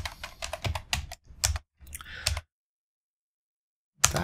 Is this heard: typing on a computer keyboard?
yes